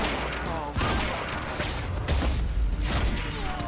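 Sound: grenade explosions in video game Quantum Break

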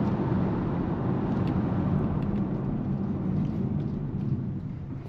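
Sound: Mazda CX-50 car hard braking

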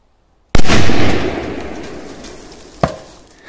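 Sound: powerful firecrackers exploding under a metal canister

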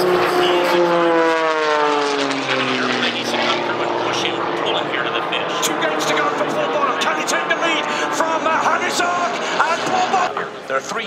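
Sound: race airplane engine flying

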